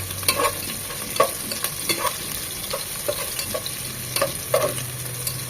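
Chopped onion frying in a pan for an Eid chicken roast, a constant sizzle punctuated by repeated sharp scrapes and clinks of a spatula as it is stirred, with no voices.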